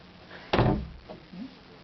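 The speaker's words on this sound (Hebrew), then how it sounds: "מה אתה פותח דלתות של אנשים?" A single solid thunk of a door, sharp and close, followed by a faint creak and a short, low voiced sound.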